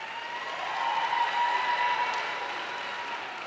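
Commencement ceremony audience at Lincoln University applauding, a steady dense wash of many hands clapping at once, fairly loud and sustained throughout, swelling slightly in the middle before easing.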